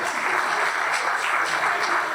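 An audience at an awards gala applauds in a dense, even round of clapping that holds steady for a couple of seconds, with no voices standing out.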